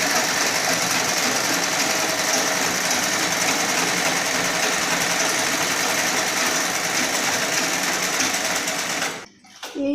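A sewing machine modified for a user with a shorter leg, with a cushioned foot pedal, runs in a loud, rapid, steady mechanical chatter that cuts off abruptly near the end.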